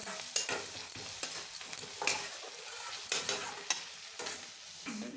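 Spice mix for dal frying in a pan, with a steady sizzle broken by repeated scraping stirs and light utensil knocks at an uneven rhythm, close and moderately quiet, with no speech.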